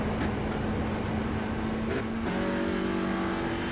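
A GT4/TCR race car engine in a sim racing video game drones steadily at high revs, with a brief dip and a shift in pitch partway through, heard alone without talk.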